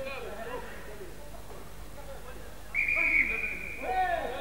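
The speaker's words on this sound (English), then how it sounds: "what's the referee whistle for now?" A referee's whistle blows sharply at a 1996 Rugby League World Cup match between Scotland and France, a bright sustained blast with a shorter follow-up, rising above crowd murmur and a commentator's voice.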